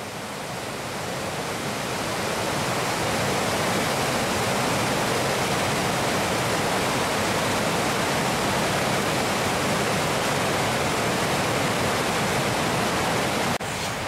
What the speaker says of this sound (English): As you can see, there's plenty of waterfalls,